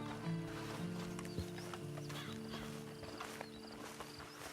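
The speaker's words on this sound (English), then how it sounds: "Then you better get on this horse." Horse hooves clip-clop steadily in Red Dead Redemption 2 Online, a soft continuous trot under a low game ambience with tonal hum, fairly quiet throughout.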